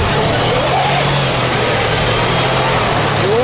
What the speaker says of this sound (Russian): Большая нагрузка на мотор.